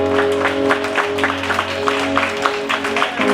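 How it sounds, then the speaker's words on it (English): Church congregation at a Mother's Day prayer breakfast claps hands in a brief round of steady applause, with faint voices mixed in. "Clap those hands right there."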